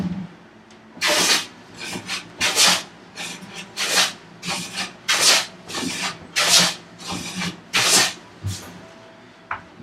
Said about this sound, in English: It's already starting to take full shavings. Just a couple light passes.